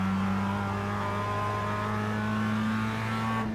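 Simulated Mazda MX-5 2017 race car at Lime Rock in iRacing, a steady engine drone with strong harmonic tones holding and rising slightly under throttle, close and constant, cutting off abruptly near the end.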